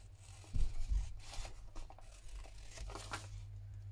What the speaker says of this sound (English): So just cut along the felt tip lines